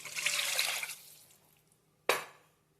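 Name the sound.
water poured into pan for upma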